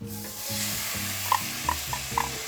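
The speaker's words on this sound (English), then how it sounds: "Now I'm going to add the meat to the olive oil." Pork meat sizzles in olive oil in a pot, a steady frying hiss with a few soft stirring clinks, heard alone while low music plays beneath.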